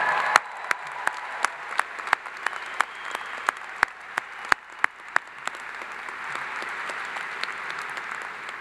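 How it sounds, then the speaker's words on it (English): Steady applause fills a large hall at an afternoon university graduation ceremony, with a dense, even patter of many hands and sharp, close individual claps standing out throughout. "How about a round of applause for them?"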